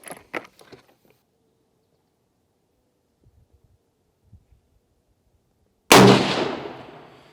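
A Marlin 1894 lever-action rifle chambered in .218 Bee fires a single loud, close shot of Winchester ammunition, decaying over a second. Quiet handling clicks and rustles of loading come before it.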